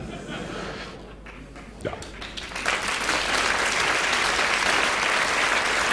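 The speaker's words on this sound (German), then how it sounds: "Sie sehen, die Älteren unterstützen mich mit Applaus." Audience applause at a 2007 cabaret festival performance: clapping swells from a quiet start into loud, sustained applause from a large crowd filling the room.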